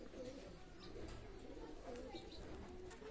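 Soft, low coos from a running pair of pigeons in a loft repeat quietly and gently, faint against a background hum.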